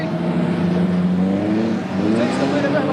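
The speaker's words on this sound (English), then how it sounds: "There are lots of cars coming up behind me." Several cars closing in from behind, engines droning and revving with rising, sliding pitch and whirring tyres, continuous and fairly loud, with a voice talking over them.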